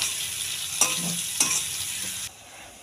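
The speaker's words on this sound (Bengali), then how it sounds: "মিডিয়াম টু লো ফ্লেমে পেঁয়াজটাকে আমি ভেজে নেব।" Sliced onions sizzling in hot oil on a medium-to-low flame for biryani, a constant bright fry broken by a couple of stirring clatters before the sizzle drops away near the end.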